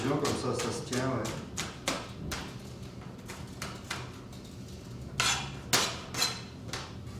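Chef's knife chopping an onion on a cutting board in a kitchen class, a series of sharp taps and thuds at an uneven pace, close, under a person talking.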